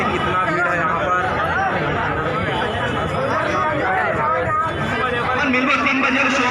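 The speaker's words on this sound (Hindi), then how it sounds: "कितना भीड़ है यहाँ पर" A large crowd of people chatters nonstop at a packed gathering around a regional film actor. The dense, loud babble of many overlapping voices stays close and steady throughout.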